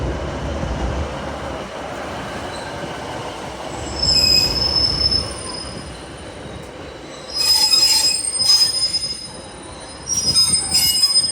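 A train passes through Carlisle station with metallic wheels squealing in sharp, high bursts over a steady rolling rumble, close and loud, with no voices.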